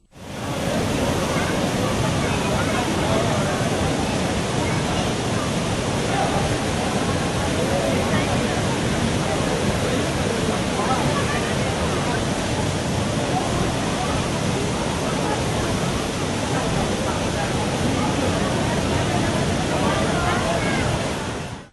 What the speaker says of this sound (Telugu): మాల్వాడి గుండం కపిలతీర్థం జలపాతాలు పొంగి పొర్లుతున్నాయి